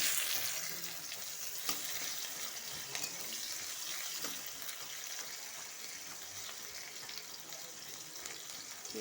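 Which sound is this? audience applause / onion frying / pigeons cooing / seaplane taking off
onion frying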